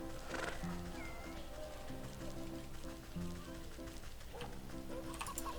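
Cat meowing in the game Little Wytch in the Wood, a couple of short meows over a looping melodic game tune with soft background ambience.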